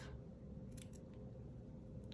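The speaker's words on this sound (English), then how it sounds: "we'll just snip that off." Scissors snip off a woven-in yarn end on a crocheted worm, a couple of quick, faint, close cutting clicks over quiet room tone.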